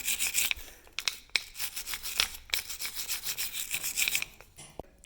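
A wire brush scrubs rust off a Ford F-150 rear brake bracket in close, steady rasping strokes, repeated back and forth with brief pauses between bursts.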